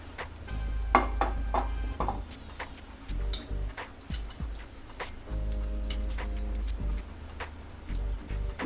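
Butter heats in a frying pan over low flame before bread goes in, with a steady soft sizzle that swells and fades and occasional utensil taps, close by and alone.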